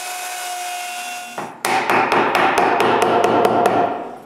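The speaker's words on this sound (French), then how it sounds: "je trace puis j'incruste l'écrou à sa place" A nut is hammered into a mobile wooden workbench part, about ten sharp, evenly spaced hammer blows ringing close and loud over a steady background hum.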